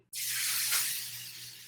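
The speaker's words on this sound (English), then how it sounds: "That is a very good sizzle." Tuna hits a hot pan and bursts into a loud, close sizzle that starts abruptly, peaks briefly and then holds as a steady hiss, with no voices.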